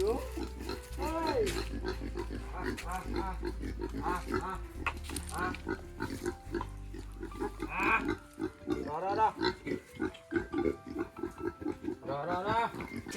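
Pigs on a pig farm in Assam grunting and squealing in frequent close bursts, with a person talking over them in the middle of the sequence.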